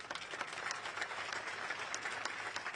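Crowd clapping at an outdoor political public meeting addressed by a minister, a continuous, fairly distant wash of many hands applauding steadily, with a few sharper claps standing out.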